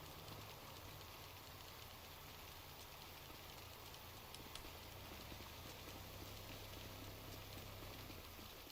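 Steady rain falls in GTA Online, a continuous dense hiss of drops spread evenly across the whole stretch with no speech over it.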